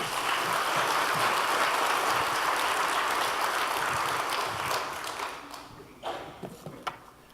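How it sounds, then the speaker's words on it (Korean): A church congregation applauds to welcome a missionary preacher at an afternoon service, a sustained wash of clapping that fades toward the end, leaving a few scattered claps and taps. "함께 큰 박수로 한번 환영해 주시기 바랍니다."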